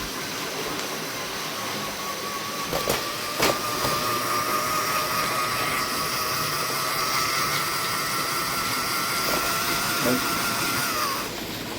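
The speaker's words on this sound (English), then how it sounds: "let's see these trains running" A small model train hums and rattles steadily along its track, continuous and close, with a faint whistle-like tone drifting through.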